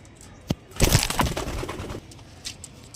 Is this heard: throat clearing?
no